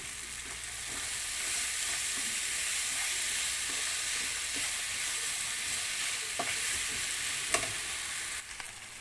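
Onions and tomato are sautéed in a pan for paneer butter masala, a steady, even sizzle and hiss lasting throughout, with occasional faint utensil clicks and a brief sharper tap near the end.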